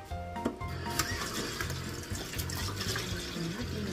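Pork slices washed under a running kitchen tap, a steady close splash of water with small clatters as the meat is rinsed in the sink.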